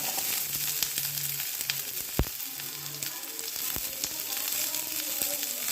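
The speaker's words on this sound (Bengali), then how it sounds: "এরপরে এর মধ্যে পেঁয়াজগুলো দিয়ে দেবো।" Onions frying in a pan for chilli soybean, a steady close sizzle with occasional stirring clinks and scrapes, no talk.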